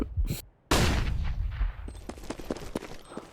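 Gunfire from a CS:GO animation video game, a burst of loud shots with a short gap, then a dense run of crackling rapid fire with sharp echoing reports lasting to the end.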